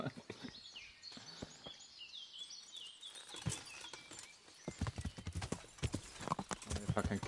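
Horse hooves clip-clopping in Kingdom Come Deliverance, quick rhythmic hoofbeats that fade in and out and return busier near the end, with chirping birds and brief voices in the background.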